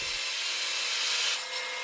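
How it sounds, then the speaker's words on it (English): A power tool cuts through wood for a French cleat on a metal-casting supply cart, giving a steady, bright, rasping whir that runs close and loud the whole time and eases slightly near the end. "I'm cutting out a space for a little French cleat."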